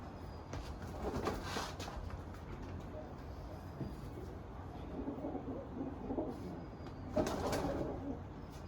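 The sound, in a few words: male pigeons cooing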